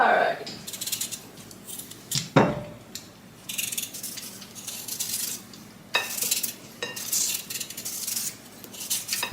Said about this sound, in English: So I'm going to use the knife to peel the potatoes.